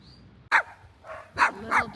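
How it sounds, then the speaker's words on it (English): Small dogs bark on a roadside loop road near Tronadora, a few sharp, close yaps in quick succession after a brief quiet start. "Little dogs like this are everywhere that come out barking at your heels."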